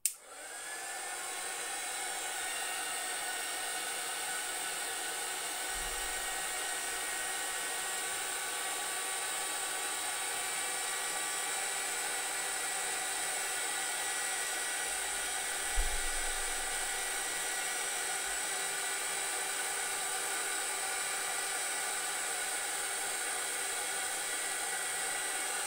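A hair dryer blows steadily on a handmade folding screen card, a constant close whooshing roar that holds level for nearly half a minute with a faint bump partway through.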